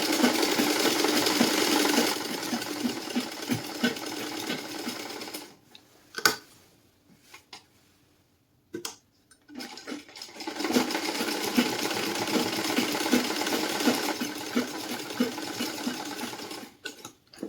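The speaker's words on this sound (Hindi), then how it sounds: "बॉटम की सिलाई लाते लाते हमें सिलाई को तिरछा नहीं करना है।" A sewing machine stitching the hem of loose-fitting ladies' pants runs in fast, steady close-up bursts, with a pause of a few seconds and a couple of sharp clicks before stitching resumes.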